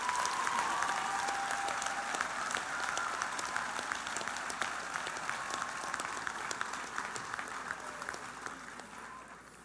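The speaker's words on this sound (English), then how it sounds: "please, a round of applause and a heartfelt thank you to all those who have supported you" Graduation ceremony crowd at Rogers High School breaks into long, steady applause with scattered cheers, filling the hall and slowly tapering off.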